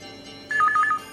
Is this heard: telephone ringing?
yes